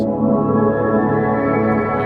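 A sustained piano chord rings out with a full, rich tone, washed in heavy Valhalla Room reverb and holding steady without any talking.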